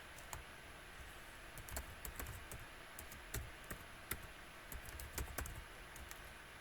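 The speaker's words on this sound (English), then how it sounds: "Type in the password." Quiet, scattered key clicks from a computer keyboard as a password is typed during a Linux setup in VirtualBox, irregular taps over a faint steady hum, no talking.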